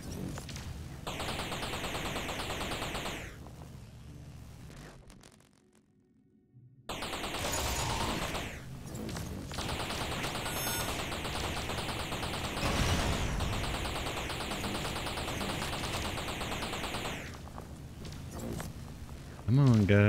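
Automatic turret fire in the space combat game Space Trash Scavenger, rapid loud bursts of gunfire repeating through most of the stretch, briefly cutting out midway, with someone talking over it.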